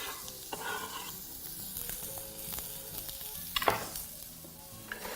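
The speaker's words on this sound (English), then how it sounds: "And you can proceed to add those to your hot pan as well." Chopped onion hits a hot pan and sizzles, with quiet crackling, a few scrapes, and a brief louder burst of hissing near the end, no talk.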